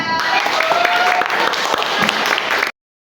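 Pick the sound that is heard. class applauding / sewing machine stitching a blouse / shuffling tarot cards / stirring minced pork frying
class applauding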